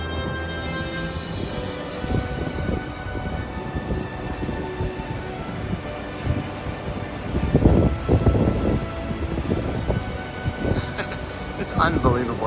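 Wind gusts at the bottom of the Grand Canyon near a bridge and campground, rushing and buffeting the microphone in uneven surges, strongest toward the end, while a person talks.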